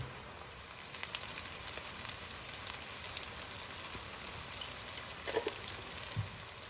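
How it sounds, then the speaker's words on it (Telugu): Ginger garlic paste and turmeric sizzle in a hot pan while cooking Nellore-style fish curry, giving a steady, even crackle throughout with no talking. "జింజర్ గార్లిక్ పేస్ట్ వేసుకొని కొంచెం లైట్ బ్రౌన్ అయ్యాక మనము పసుపు వేసుకుందాము"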